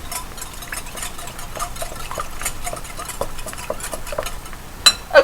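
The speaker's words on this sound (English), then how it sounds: "we're gonna whisk those" A whisk beats muffin batter for chocolate chip banana muffins in a bowl, making quick, even rhythmic ticks and scrapes close by, ending with a couple of sharp clinks against the bowl.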